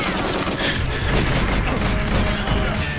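Dense, continuous gunfire from the GoldenEye video game, loud rapid shots overlapping into a steady barrage with no pauses.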